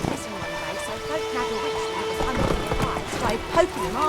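Roach, a horse in The Witcher 3 game, clip-clops along with hoofbeats under game voices and music, and a brief whinny rises near the end.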